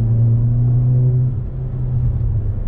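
Interior drone of an Alfa Romeo 159 TBi Stage 2 (248 PS) engine while driving at night, a steady low hum that eases slightly midway, alone without talk.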